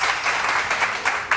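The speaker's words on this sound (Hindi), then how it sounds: "बहुत सारी तालियां किरण के लिए।" Studio audience applause on a morning TV show for guest Kiran Naz, a dense, steady wash of many hands clapping close up and continuing with small swells.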